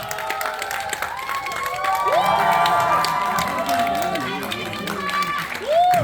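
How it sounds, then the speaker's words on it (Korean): A cinema crowd at a film stage greeting in a CGV theater in Yongsan, Seoul, applauds and cheers as two lead actors come out. Steady clapping runs under excited shouts, with voices calling out over it throughout. "박수 함성 주시면 감사하겠습니다."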